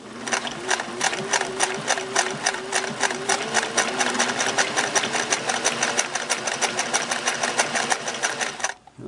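A Singer Model 401A sewing machine stitching with two needles and four threads runs in a fast, steady, loud mechanical rhythm for several seconds and then stops abruptly at the end.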